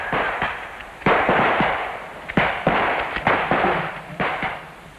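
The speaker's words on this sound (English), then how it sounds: "the self-loading rifle" Self-loading rifles fire on a military training range in 1971, sharp cracks in irregular bursts, some close and loud, others overlapping with echoing tails.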